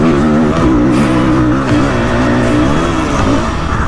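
New 500 two-stroke enduro motorcycle fitted with knobby tyres, ridden on wet asphalt, giving a loud, close, sustained engine roar with wavering pitch throughout.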